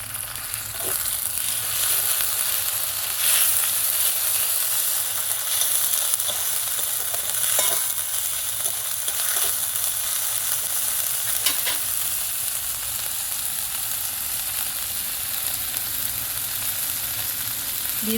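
Onion and ginger-garlic paste fry in a pan with a loud continuous hiss and crackle, while a spoon stirs and scrapes now and then. The sound is close and steady throughout, with no talking.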